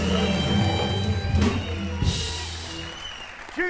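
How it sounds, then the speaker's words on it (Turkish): A studio audience on a Turkish TV talk show applauds to welcome guests while music plays, the clapping a steady wash under a sustained musical bed that fades slightly toward the end. "Konuklarımıza kocaman bir alkışla başlayalım."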